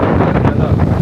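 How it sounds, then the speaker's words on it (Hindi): Strong wind buffeting the microphone outdoors in the hills near Pune, a loud continuous roar covering the whole moment, no speech. "इतनी तेज हवा है।"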